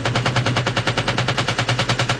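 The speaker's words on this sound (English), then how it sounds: "Yeah, just shooting, just whatever." Rapid machine-gun fire from the 1987 war film Full Metal Jacket rattles in an even burst of about twenty evenly spaced shots over two seconds, loud and unbroken, with no voices.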